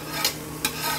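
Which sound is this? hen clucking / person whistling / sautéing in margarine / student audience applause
sautéing in margarine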